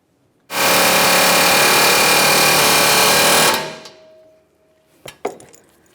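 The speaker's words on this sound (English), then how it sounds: "We'll continue on with an air hammer, causing vibration, driving this out and away." A loud, sustained burst of air hammer driving out a front wheel hub bearing on a 1994-1997 Honda Accord, lasting about three seconds, then it winds down, followed by a couple of sharp metallic knocks.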